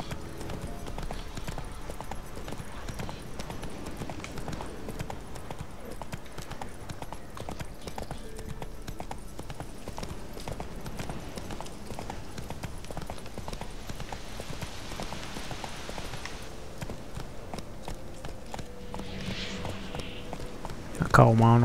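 Horse hooves clip-clop steadily in The Witcher 3, a rhythmic walking gait that runs nearly the whole time over game ambience, with someone talking over it.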